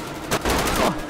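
Dense, loud gunfire in the video game GTA 5 during a police roleplay scene, a rapid burst of overlapping shots filling the whole moment, close and continuous.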